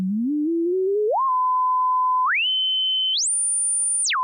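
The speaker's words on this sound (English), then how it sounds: "I'm gonna take a simple sine wave and I'm gonna move the pitch around" A pure sine tone glides upward in pitch in stepped stages, rising smoothly from low to very high, holding each level briefly before dropping back down at the end, steady in loudness and alone with no voices.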